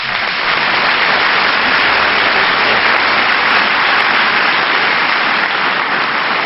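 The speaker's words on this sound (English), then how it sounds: "Let's have a round of applause for this fantastic young man" Loud, sustained applause from a large audience at the Pride of Britain awards ceremony, a dense unbroken wash of clapping filling the whole stretch.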